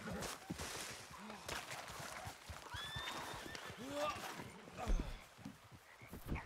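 Quick, uneven horse hoofbeats clatter among other sounds in Red Dead Redemption 2 Online, with a few short squeals and whinny-like cries over a busy, fairly quiet backdrop.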